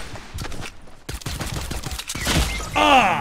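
Pistol gunfire in Fortnite: a quick run of sharp shots with irregular gaps, then a louder burst of shooting and a ringing effect toward the end.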